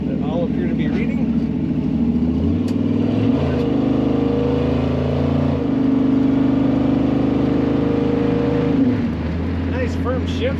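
The engine of a 1956 Chevrolet 3100 Stepside pickup hums steadily and loudly as it accelerates, with its automatic transmission making firm upshifts that each drop the engine's pitch, heard from inside the cab.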